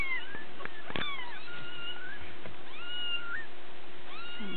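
A cat meows repeatedly, with several rising and falling cries spread out among small indoor noises nearby.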